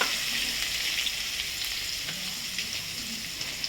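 Garlic sizzling in hot oil in a pan, with asafoetida and turmeric, for a fiery village-style Sangli mutton rassa curry; a steady, close frying hiss runs throughout with small crackles and pops.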